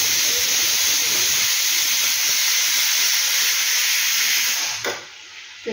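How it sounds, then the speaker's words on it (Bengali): A pressure cooker cooking dal lets out a loud, continuous steam whistle up close, a sharp sustained hiss that holds for several seconds and then suddenly stops, leaving quiet kitchen sounds. "আর প্রেসার কুকারে ডাল বসিয়ে দিয়েছি। এই দেখুন সিটি"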